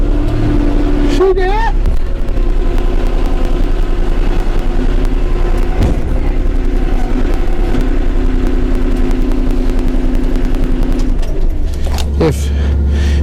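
A Kubota L3560 tractor engine drones loudly and steadily as the machine climbs onto a trailer, its note shifting slightly under load, while someone speaks briefly over it.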